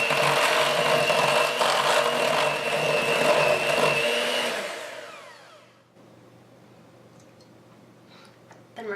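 An electric hand mixer whirs loudly and steadily as eggs are beaten into sugar cookie dough, then winds down and stops about halfway through, leaving a quiet room with faint clicks.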